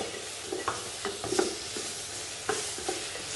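Drumsticks sautéing in masala for mutton kuzhambu, a soft continuous sizzle broken by several stirring scrapes and clinks of a spoon against the pan, close and moderately quiet with no talk.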